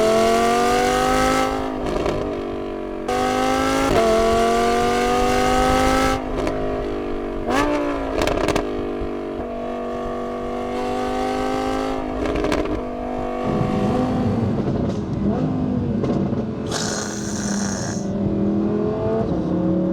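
An Audi R8 V10 with a full custom variable exhaust revs repeatedly through the gears, rising and dropping in pitch with sharp throttle blips and a raspy, aggressive exhaust note.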